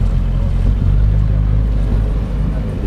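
SHERP all-terrain vehicle pushing through water about 50-60 cm deep, a loud, steady low engine roar mixed with churning and splashing water, continuous and close throughout.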